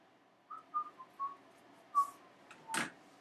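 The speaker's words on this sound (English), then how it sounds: "Oh my gosh, I'm whistling." A person whistles a short tune alone, several clear bright notes in a halting rhythm, close and fairly quiet, followed by a brief soft rustle and a sharp broadband scrape near the end.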